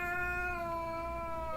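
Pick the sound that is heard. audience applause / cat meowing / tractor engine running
cat meowing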